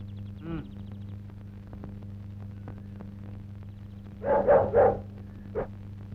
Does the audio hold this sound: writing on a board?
no